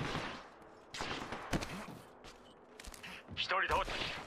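Gunfire bursts in the video game Apex Legends, several short rapid volleys and shots scattered through the clip, mixed with game voice lines and effects.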